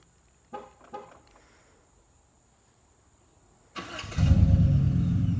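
A couple of clicks, then a truck engine cranks and catches, settling into a steady, fairly quiet idle rumble close by.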